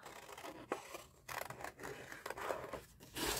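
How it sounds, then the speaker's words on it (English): Scissors snipping through paper while making a small handmade card, several quick rustling cuts in an uneven rhythm, close and fairly quiet, with no talking. "But let's cut out first."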